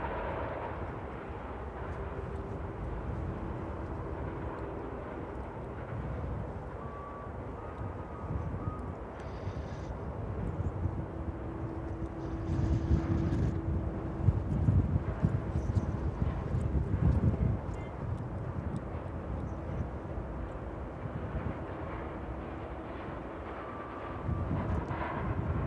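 An aircraft on final approach to East Midlands Airport in the evening, a faint, distant broadband engine rumble that swells slightly midway under steady wind noise.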